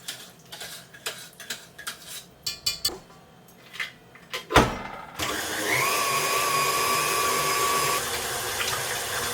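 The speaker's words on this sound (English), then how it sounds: "Now I'm going to pop that into the kitchen whiz and start adding eggs one at a time." A Kitchen Whiz food processor beats eggs into a mixture. Irregular clinks and taps of kitchen handling come first, then the motor starts and runs with a loud, steady whirring drone to the end.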